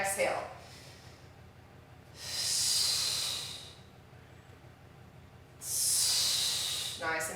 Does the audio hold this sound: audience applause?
no